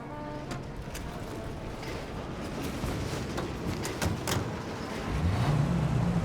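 A taxi car driving in the video game Mafia Definitive Edition, a steady moderate engine drone with rising revs near the end, heard alone without talk.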